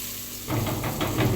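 Onions sautéing in a pan give a steady, moderately loud sizzle that starts abruptly partway through and continues to the end, with no talking.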